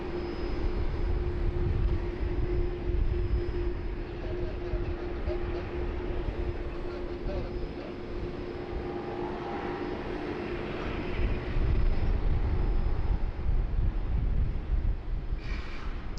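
An airliner takes off at Sydney Airport, a broad sustained jet roar with a steady whine running through it, loud and continuous for the whole stretch, swelling toward the end.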